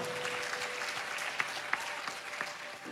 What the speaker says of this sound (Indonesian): jangan setengah-setengah tepuk tangannya